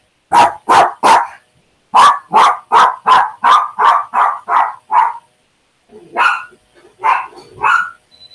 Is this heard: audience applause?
no